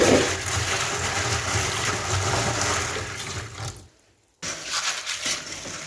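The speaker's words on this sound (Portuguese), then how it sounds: "Eu vou molhar essa forma, despejar" Water gushes steadily into a baking pan of weevil-damaged beans, a loud splashing pour that stops abruptly, then resumes after a brief silence.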